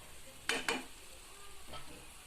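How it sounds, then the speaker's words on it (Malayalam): Small beef pieces land in coconut oil with sliced shallots and onions: two quick loud clatters of stirring, then a soft steady sizzle and one more scrape. "ബീഫ് ചെറിയ കഷ്ണങ്ങളാക്കി എടുത്തത് നമ്മളതിലേക്ക് ചേർത്ത് കൊടുക്കുന്നു"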